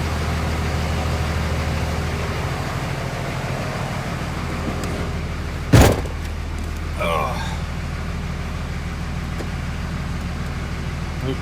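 A car on a test drive after transmission repair gives a steady low engine and road rumble from inside the cabin, with one sharp knock midway and some talk.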